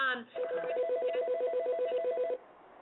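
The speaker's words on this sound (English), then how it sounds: "phone was ringing. I couldn't hear the full question." A telephone rings with a steady electronic trill lasting about two seconds, fairly loud and close, after a short preceding tone.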